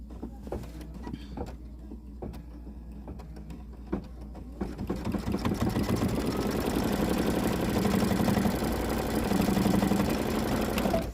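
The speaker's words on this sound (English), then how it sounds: "now we're going to stitch our quilting stitch on the mug rug" Baby Lock sewing machine stitching a quilting stitch on a mug rug, starting with a few taps and clicks, then a steady, close motor whir with rapid needle chatter that runs for several seconds.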